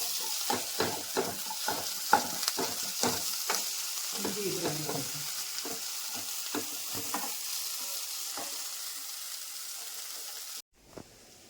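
A spiced egg mixture with garam masala and pepper being stirred in a hot pan: a steady sizzle under repeated spoon scrapes and taps, close by, ending in a brief cut near the end.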